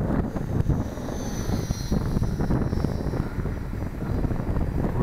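A small aircraft in forward flight, flying into the wind, drones with a steady, broad engine and propeller roar that stays loud and close throughout, with no voices.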